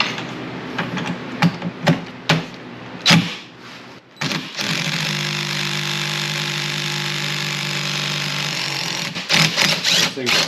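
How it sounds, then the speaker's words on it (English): An impact gun works on a steering wheel bolt, a sustained, loud, buzzing run lasting about five seconds, set between scattered knocks and clatter from the work. "there is a bolt there that we'll probably use the impact gun on to get off."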